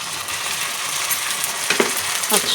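Ginger and green chili paste fries with spices in a hot pan, a steady soft sizzle broken by a few sharper spatula scrapes and clinks near the end.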